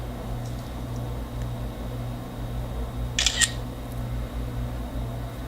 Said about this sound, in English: I'm gonna take a selfie right now. Flash is on.